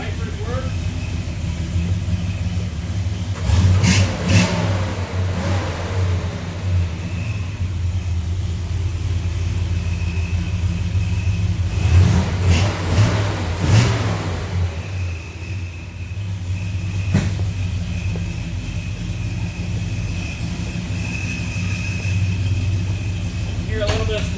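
A 1967 Chevrolet Chevelle Super Sport engine rumbles steadily at idle close by, with two brief, louder revving bursts rising above the low drone.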